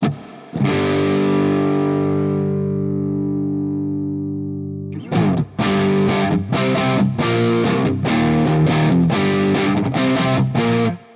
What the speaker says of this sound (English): this is going to be our crunch tone